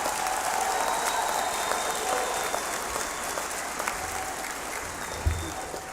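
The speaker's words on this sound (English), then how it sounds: "Let's give this class of 2025 a round of applause" A crowd at a law school hooding ceremony applauds the graduating class: a broad, continuous patter of clapping from a large audience, moderately distant and even, with a few louder bumps near the end.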